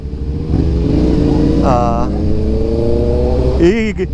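A Honda CB650R inline-four motorcycle engine and exhaust drone steadily close by, rising into a couple of revs, with voices talking over it.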